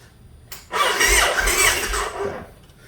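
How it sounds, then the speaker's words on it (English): A 2008 Yamaha XV1900 motorcycle's starter cranking the engine on a slightly weak battery, a click and then a loud whirring, grinding crank lasting about two seconds before fading out, close by. "since them wires are hooked back up, my starter should work"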